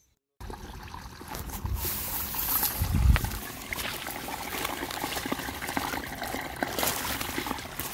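Rainwater trickles and drains off a rain-flooded farm field where low spots in the ground have been cut open, a steady wet rushing with a brief louder splash near the middle.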